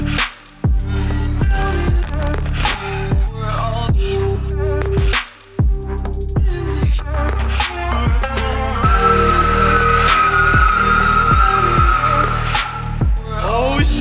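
A BMW E36 coupe engine roars through repeated revs during a burnout, with a sustained high screech of tires spinning, loud and continuous throughout.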